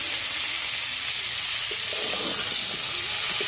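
Cauliflower fries in hot oil with a loud, steady sizzling hiss that fills the whole stretch, with faint stirring knocks underneath.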